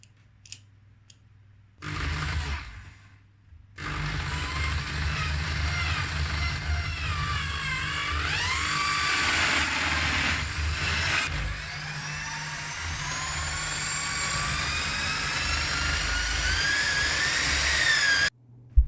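A skateboard wheel being ground flat with a power tool, a steady loud whine and rasp with shifting rising pitch sweeps, running for about fifteen seconds after brief start-ups, alone with no talk.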